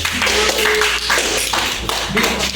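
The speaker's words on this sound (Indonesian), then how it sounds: "Beri aplaus teman-teman." Classmates applauding in a classroom, a dense round of clapping that stays steady and close for a few seconds.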